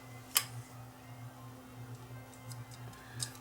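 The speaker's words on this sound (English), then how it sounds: "Now it's going to try to spin the disc." A JVC MX-J9 CD player mechanism trying to spin a disc, a faint steady motor hum with one sharp click near the start and soft ticks later, quiet and close.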